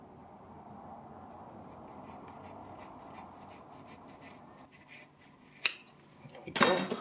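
Scissors snip through strands of hair being cut for a handmade brush: soft rubbing and handling at first, then a sharp cut and a louder burst of snipping close by at the end.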